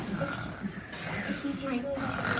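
Children imitate snoring together with their voices, a noisy group of breathy, snorting snore sounds lasting a couple of seconds in an indoor school setting.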